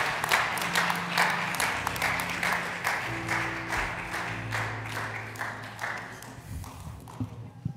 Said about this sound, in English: Let's give our children a hand clap as they go.